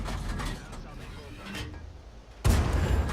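A tank's main gun goes off in World of Tanks, one sudden loud blast near the end that follows a stretch of mechanical rumble and clanking.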